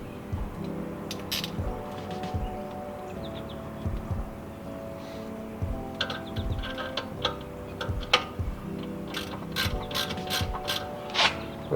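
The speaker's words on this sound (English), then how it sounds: "I like to start all these by hand first before I put a wrench on them" A ratchet wrench tightening bolts on the rear brake of a BMW F30, rapid ticking clicks in repeated runs with short pauses between strokes, close and clear, with no talking.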